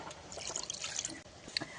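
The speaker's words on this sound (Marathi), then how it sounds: "भाजीवरती थोडंसं थंड पाणी घालून घेऊया" Cold water trickles and splashes gently over cooked pathra leaf vegetable, quiet and close, with small drips scattered through.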